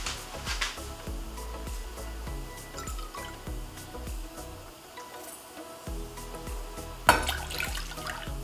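Milk poured into a pot of melted butter for cinnamon roll dough, a steady liquid pour and dripping with small clinks, fairly close and continuous, with a louder knock near the end.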